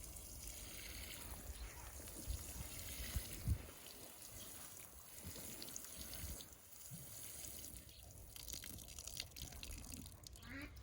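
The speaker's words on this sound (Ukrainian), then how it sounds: "Тепер поливаємо наші кущики." Water poured onto newly planted raspberry bushes in an autumn garden, a continuous soft splashing and trickling, quiet and close, with occasional gurgles and a faint voice underneath.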